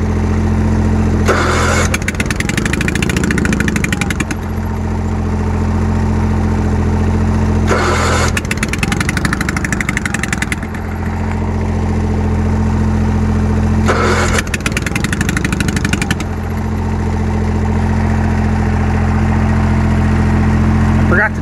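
Bolens QT 16 garden tractor engine, troublesome when cold, loud and close as it starts and idles with a steady low throb. Harsh bursts of noise break in every few seconds, and a person talks over it.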